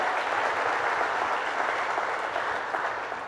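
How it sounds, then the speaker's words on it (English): Audience applause for LaGuardia Community College at a Governor Cuomo announcement event in Queens: dense, steady clapping from a sizable crowd, loud and continuous throughout, tapering slightly at the end. "Let's give a round of applause to LaGuardia Community College."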